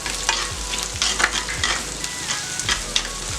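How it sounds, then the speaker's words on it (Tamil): Small shallots, about a handful, frying in hot oil in a pan for spinach dal, with a steady bright sizzle and periodic stirring scrapes every half second or so, close and alone without talk. "இதில் வந்து ஒரு 50 கிராம் அளவுக்கு சின்ன வெங்காயத்தை ஒரு கைப்பிடி அளவுக்கு நீங்கள் போட்டுக்குங்க."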